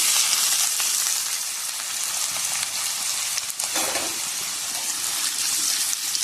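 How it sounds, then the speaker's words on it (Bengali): Potatoes fry in hot white oil in a wok, giving a loud, steady, hissing sizzle with a brief surge of bubbling partway through. No voices are heard. "তেল গরম হয়ে গেছে, প্রথমে আমি আলুটাকে একটু ভেজে নেব।"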